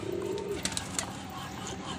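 Pigeons coo softly against a steady background hum, with a few brief sharp higher-pitched accents partway through; the flock of about forty birds stays fairly distant and continuous throughout.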